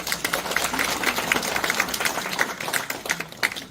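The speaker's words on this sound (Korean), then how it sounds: "다시 한번 박수 한번 드리겠습니다" A church lecture audience applauds after a talk on high blood pressure, giving dense, steady clapping from many hands that fills the room throughout.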